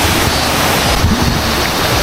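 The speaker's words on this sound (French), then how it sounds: "Je suis toute seule devant une cascade, devant ce lieu." A waterfall beside a river near Nikko, Japan, roars as a loud, unbroken rushing wash of water, close and steady.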